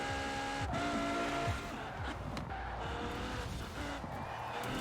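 A car brakes hard with tires squealing and skidding in the racing game Forza Horizon 4, the engine droning steadily throughout. The squeal is loud and continuous, with no talking over it.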